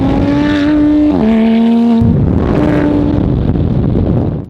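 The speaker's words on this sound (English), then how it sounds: "just blowing my eardrums out with this high-pitched frequency, high-performance exhaust systems" Supercar high-performance exhaust roaring loud and close, a piercing high-pitched engine tone that holds, drops briefly with a gear change, then swells again as the car accelerates, with no voices.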